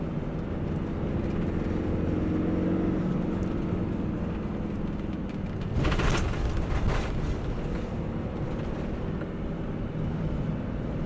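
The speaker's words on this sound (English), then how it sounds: "We're accelerating now 30, 40 mile an hour in third gear." Autosleeper Talisman motorhome on a Peugeot chassis accelerating in third gear gives a continuous heavy engine and road drone from inside the cab. A brief louder rush comes partway through, and nobody speaks.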